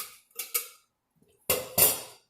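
Pots from a complete camping cooking set clank and rattle as they are handled, with two quick pairs of metallic knocks and clatters, the second pair louder and closer, separated by a short silence.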